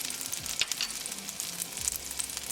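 Garlic and ginger fry in melted butter in a pan for pav bhaji, a constant soft crackling sizzle with small popping bursts, close but fairly quiet.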